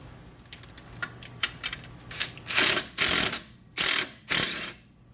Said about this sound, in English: I'm actually going to attach the impact to this to make it a little bit easier, but you can use a ratchet.